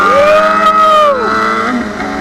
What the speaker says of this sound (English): This bike's hella loud.